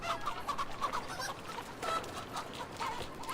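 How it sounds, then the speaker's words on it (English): Several chickens clucking in the video game Assassin's Creed Valhalla: a continuous, moderately quiet chatter of overlapping short clucks and squawks at a steady, busy rhythm. "That's a lot of chickens."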